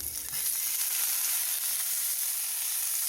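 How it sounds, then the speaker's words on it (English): Vegan butter melts in a pan on the stove with a constant, dense, hissing sizzle that holds an even level throughout and has no talk over it. "I'm just melting some vegan butter in this pan"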